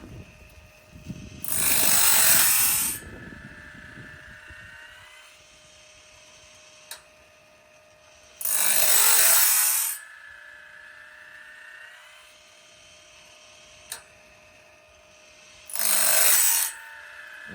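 A sawmill sharpener grinding a band saw blade on a Woodland Mills HM130 setup: three evenly spaced bursts of harsh grinding, each about two seconds, over a steady mechanical hum with faint ticks between.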